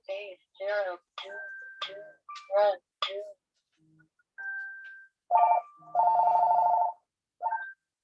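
A mobile phone rings partway through an indoor crafting recording: a loud, repeating electronic ring pattern with bursts of tone after earlier speech.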